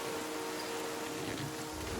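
Rain falls in the river survival game The Flame in the Flood, a soft, steady hiss of drops on surfaces with a faint low hum beneath, quiet and unbroken throughout.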